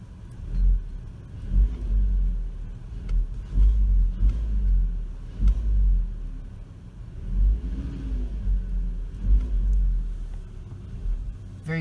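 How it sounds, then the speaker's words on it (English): A 2010 Volkswagen Jetta SportWagen with the 2.5 engine, revved repeatedly while parked, its deep bassy drone rising and falling in several close swells. "We'll give it a nice rev."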